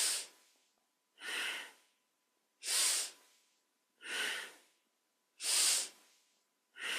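Forceful rhythmic breaths in kundalini yoga, six sharp breathy bursts evenly spaced about one and a half seconds apart, close and clear with silence between them.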